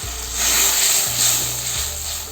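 Poppy seed paste sizzling in a pan as water is poured in for an egg posto curry, a close, steady bubbling hiss with soft low thumps underneath and no talking.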